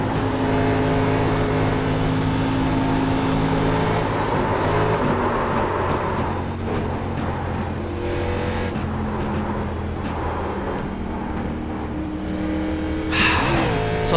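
Race car engine in the iRacing sim during a Saturday night race, a loud, steady drone of harmonic engine tones that holds throughout and shifts pitch with gear changes and braking, with a brief rising whine near the end.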